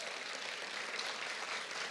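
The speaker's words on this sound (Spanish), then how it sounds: "Denle más fuerte ese aplauso." A church congregation applauds during a service, a dense, even wash of many hands clapping at steady loudness for two seconds with no voices over it.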